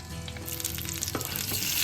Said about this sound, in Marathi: याला छान आपल्याला तेलामध्ये परतून घ्यायचे